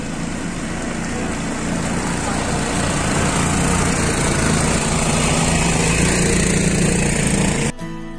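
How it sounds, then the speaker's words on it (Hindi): Off-road bikes climbing a mountain track toward a temple in the Solang Valley near Manali, a loud steady buzzing engine drone held close throughout before cutting off abruptly near the end. "लोग ऑफ रोडिंग माउंटेन बाइक पे चढ़ के मंदिर की तरफ जा रहे हैं"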